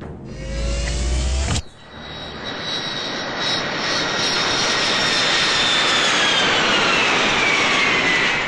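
An airplane engine drones in flight with a loud, steady jet roar and a high whine that holds for several seconds after an abrupt cut near the start.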